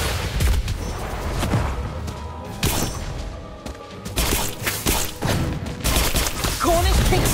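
Explosions and spell blasts fill a battle in the Harry Potter Magic Awakened game, including a Bombastic bomb spell. Sharp booms and crackling impacts come in irregular bursts, mixed with game sound effects.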